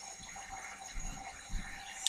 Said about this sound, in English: there was going to be some hot water for me to wash my face, and that's what I'm doing now